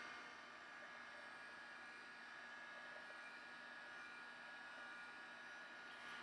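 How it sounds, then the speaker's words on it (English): A heat tool blowing hot air to dry a sponged card, a steady, even whooshing hum that stays constant throughout with no breaks or talk. "I'm taking the heat tool and just giving it a little extra there to dry it"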